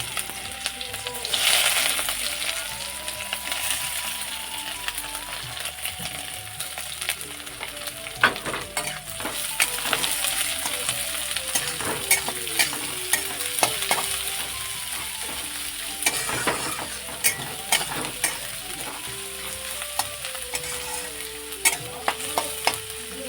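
Onions fry in a pan after whole cumin has been tempered, a loud continuous sizzle with frequent scraping and clattering stirring strokes throughout, up close.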